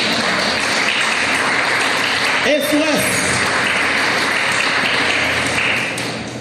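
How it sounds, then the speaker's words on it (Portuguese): Church congregation applauds steadily throughout a service, a dense wash of clapping with a brief voice cutting through midway, tapering slightly at the close. "Você pode aplaudir ao Senhor por isso, sim ou não?"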